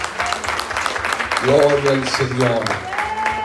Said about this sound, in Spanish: ¿Cuántos le dan un aplauso al Señor por lo bueno que es?